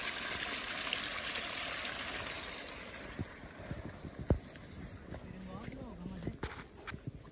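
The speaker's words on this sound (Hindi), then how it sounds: "हद से ज़्यादा पानी आ रहा है।" Heavy rainwater rushing along a road in Himachal Pradesh after heavy rains, a continuous hissing water flow, strong at first then thinning, with scattered footsteps and knocks and someone talking.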